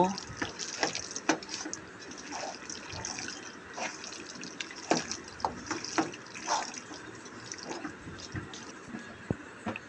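Beef being mixed by hand with half a cup of sour yogurt for Mezbani-style beef with packet spice mix: close, wet squelching and squishing in an irregular rhythm with faint clatter, continuous throughout.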